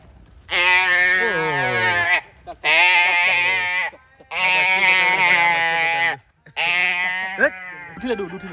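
A lost cow calf bleats loudly and close in four long drawn-out calls with short pauses between, plus a brief cry at the end.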